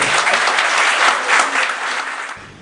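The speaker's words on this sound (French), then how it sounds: "Sous vos applaudissements, s'il vous plaît." Audience applause at a televised Gabonese evening news segment, a dense steady wash of many hands clapping that carries on strongly before tapering off near the end, heard on its own.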